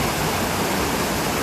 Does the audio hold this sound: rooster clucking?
no